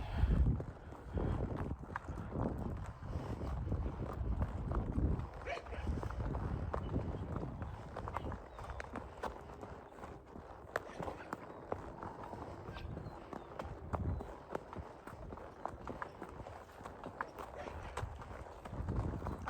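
Hooves of a ridden horse, an old pony used for skidding logs, clip-clopping at a steady walking rhythm outdoors, close to the rider, with gusts of wind buffeting the microphone throughout.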